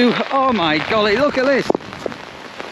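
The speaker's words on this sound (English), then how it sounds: "torrential rain" Torrential rain suddenly pours down after sunshine, a steady broadband hiss running the whole time beneath a man's excited exclamations, with a few sharper knocks near the end.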